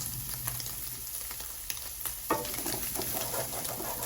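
Prawns sizzle steadily in hot oil in a home kitchen while making garlic prawn rice, a continuous close crackle with scattered pops and one sharper spatter midway, no talking.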